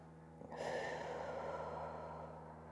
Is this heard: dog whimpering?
no